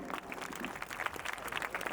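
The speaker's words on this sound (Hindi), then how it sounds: "मैं आप लोगों से निवेदन करूंगा कि जोरदार इनकी तालियों से इनका स्वागत करें।" Audience clapping inside a church during a Christmas cantata, a dense, steady patter of many hands held at a moderate level through a short stretch with no talk over it.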